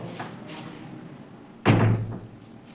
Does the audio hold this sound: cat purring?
no